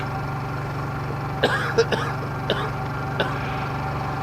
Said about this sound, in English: sorry to hear you coughing